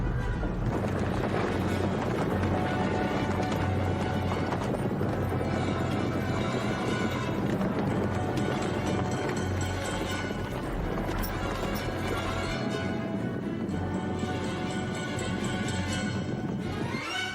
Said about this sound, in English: Australian light horse advancing on eastern defences.